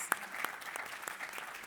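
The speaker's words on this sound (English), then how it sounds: "So a round of applause, please, for my panelists." Light applause from a conference audience at an African hospitality panel as panelists walk up, a few sharp distinct claps standing out over a soft, thin patter.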